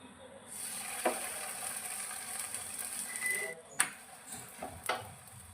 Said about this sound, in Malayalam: ചട്ടിയിൽ എണ്ണയൊക്കെ ചുട്ടെടുക്കുക.